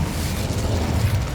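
Incendio fire spell cast in the Hogwarts Legacy video game, heard as a steady, dense low rumbling whoosh of flame that holds at an even loudness for a moment, with no talking.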